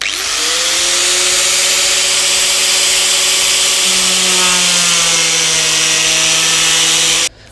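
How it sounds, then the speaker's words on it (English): An angle grinder cuts an MX5 bumper in half, whining loudly and steadily up close for about seven seconds, its pitch shifting slightly as it bites, then cutting off abruptly. "simply take an angle grinder and cut it in half"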